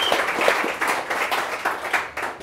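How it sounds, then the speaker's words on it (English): A crowd claps at a culinary kitchen food and Champagne Taittinger wine-pairing demo, brisk, fairly close applause with uneven rhythm lasting a couple of seconds. "You can applaud."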